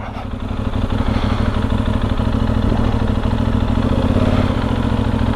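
A Benelli Leoncino 800 motorcycle's engine runs steadily at a low, throbbing pitch, close and loud, with a slight rise in revs after the first second.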